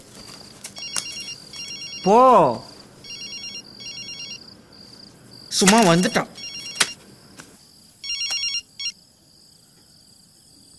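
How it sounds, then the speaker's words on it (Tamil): A mobile phone rings in repeated beeping bursts in an indoor domestic scene, with trilling tones rising and falling between them, while people talk and argue over it. "ஃபோன் அடிக்கிறதுல ஏந்து போய் பேசு"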